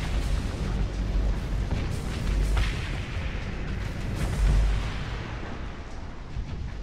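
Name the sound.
torpedo fire and explosions in the video game Starsector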